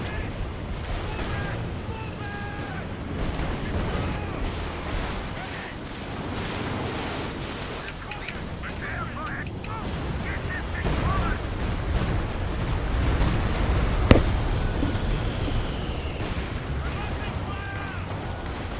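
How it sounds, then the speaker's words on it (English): An artillery barrage firing in Company of Heroes 2, with repeated heavy booms and rumbling blasts over a steady battle din, building toward a louder crack near the end, while voices talk throughout. "Increasing barrage! Fire!"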